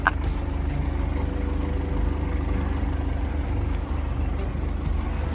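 VW Passat B8 with a 2.0 diesel engine warming up, a steady low idle rumble heard close and constant, with faint background noises and no clear talk.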